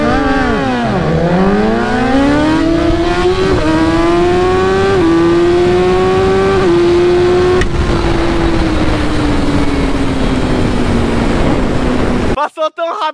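A BMW S1000R naked bike and an S1000RR sport bike race hard down a street, engines screaming loud and close through rising gear changes, then holding a steady high wail before cutting off abruptly.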